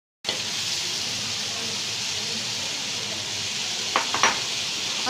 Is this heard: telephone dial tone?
no